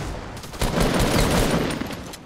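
Rapid bursts of shotgun gunfire in the Fortnite battle royale video game, loud and dense, firing in a quick cluster across a couple of seconds with no talk over it.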